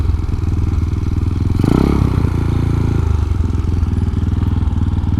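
A Honda Ruckus scooter engine idles steadily and loud up close while being parked, with a brief clattering thump and rev in the middle.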